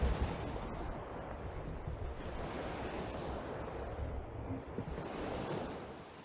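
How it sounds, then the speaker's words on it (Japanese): Boat wake waves reflecting off the far shore of Lake Chuzenji and washing back, lapping against a shore, a steady rushing swell with some wind noise on the microphone, no voices. "対岸に反射して戻ってくる第2波が来ているようだ"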